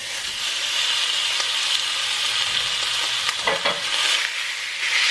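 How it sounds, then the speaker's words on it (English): Ground beef and hot Italian sausage sizzle and fry in a hot Dutch oven, a steady loud crackling hiss with occasional stirring scrapes near the end. "To the Dutch oven I'm going to add 1 pound of ground beef and 1 pound of hot Italian sausage"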